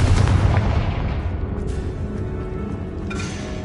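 Confringo fire-blast spell in Hogwarts Legacy, a heavy rumbling explosion that starts loud and slowly decays, with a faint secondary burst near the end and no speech.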